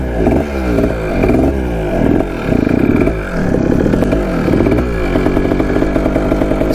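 Kawasaki dirt bike engine, long locked up and mouse infested with a suspected sticking carburetor slide, revs up and bogs down repeatedly, its loud, close, uneven note surging and sagging with no talk over it.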